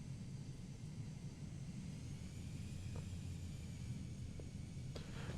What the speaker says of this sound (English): So we're just going to taxi down to the end of the runway.